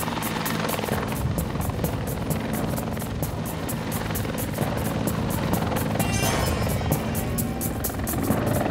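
Helicopter airlifting an aircraft engine back to Winnipeg from Charron Lake, steady loud rotor thumping and engine roar throughout with no talking.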